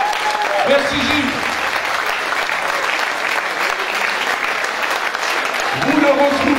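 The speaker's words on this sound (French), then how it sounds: "applaudissements pour Gilles Marino." Continuous loud applause fills a cabaret hall as the crowd honours a performer, with brief speech over the clapping near the beginning and end.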